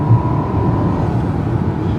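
Mercedes S-Class or Maserati Quattroporte luxury saloon with 455 PS, launching hard with a little wheel spin: a steady, loud engine roar with deep rumble and a rising whine held throughout, no talk over it.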